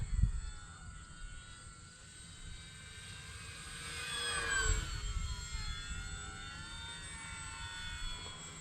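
E-flite Mustang 1.2m RC warbird plane flying overhead, a faint electric whine that swells into a brief high-pitched pass before fading into steady distant drone.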